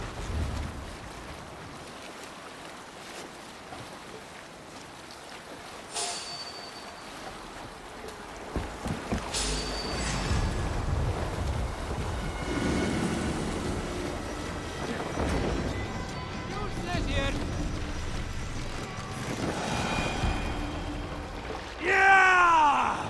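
A Viking longship sails across ocean waves in Assassin's Creed Valhalla, with a steady rush of wind and water, creaking hull and splashing surges building through the passage and a rising tonal sweep near the end.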